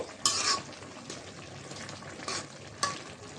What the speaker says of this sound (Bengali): শাকটা বলক এসেছে একটু নাড়াচাড়া দিয়ে দিব